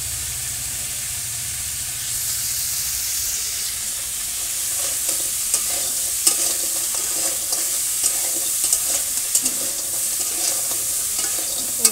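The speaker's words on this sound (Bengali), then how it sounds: "কাঁকড়া দেওয়া হচ্ছে, কাঁকড়া ভাজা" Crab pieces frying in a pan in a village kitchen, a steady close sizzle with frequent stirring scrapes and small pops running throughout, no voices.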